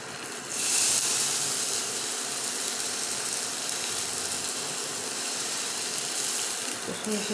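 Chicken kathi kebabs go one at a time into hot oil, setting off a loud, steady sizzling hiss that swells early and holds through the whole stretch with little change.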